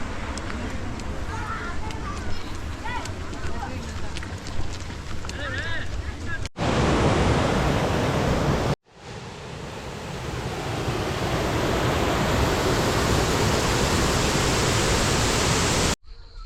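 A waterfall in Maskeliya, Sri Lanka roars as a dense, steady rush of broadband water noise, loud and close, with voices talking over it early on before the rush fills in alone.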